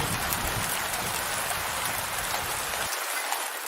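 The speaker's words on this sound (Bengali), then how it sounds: "বাইরে তখন জোরে বৃষ্টি শুরু হয়েছে" Heavy rain pours down steadily in a dense, loud hiss, easing slightly toward the end; no voices.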